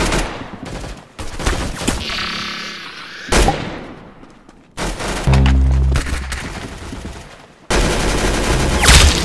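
Rapid bursts of automatic gunfire and single shots in the shooter game Arsenal, loud and close, coming in several separate volleys with short pauses between them.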